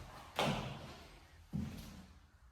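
A wooden door in an abandoned 1960s bungalow is moved twice, each time with a dull knock or thump, the first louder, followed by a fading scrape, in an otherwise quiet room.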